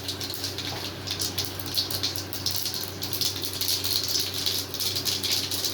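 Mustard seeds crackle and splutter in hot oil and ghee as a tempering for tomato dal rasam, a steady dense patter of tiny pops close by, with no talking.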